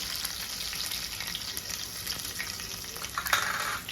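Green chillies, curry leaves and cashew slivers sauté in hot oil with a bay leaf, giving a steady, close sizzle and crackle that stays even throughout and swells briefly near the end.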